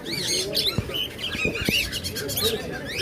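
Albino Fischer's lovebirds chirp and tweet in short, high calls at a busy bird market, with other caged birds calling nearby and a low crowd murmur underneath.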